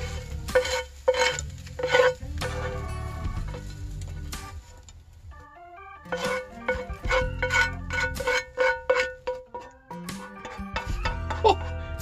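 Eggs and hash browns fry in a pan on a gas stove in a van kitchen, with steady faint sizzling under loud scraping, clinking and stirring of a utensil against the pan, close by, with no talk.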